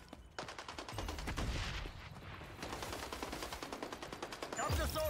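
Rapid automatic gunfire in the online shooter XDefiant, dense bursts of shots crackling almost without pause, loud and close, with a brief lull near the start and a sharp burst at the end.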